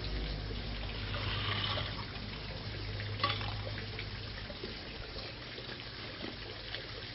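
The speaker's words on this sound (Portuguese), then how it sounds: "Bom, está aí ele preparando a água, o gelo dele." Water and ice are readied in a bucket for an ice bucket challenge, giving a quiet, steady pour and trickle that runs for several seconds, easing off toward the end.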